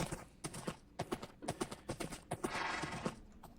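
Horse hooves clip-clop in a video game, a quick, close series of distinct knocking steps in an uneven trotting rhythm, fairly quiet with no talk over them.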